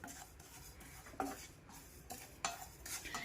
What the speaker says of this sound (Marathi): हे व्यवस्थित दोन मिनिट आधी भाजून घ्यायचं आहे कोरडंच भाजायचं आहे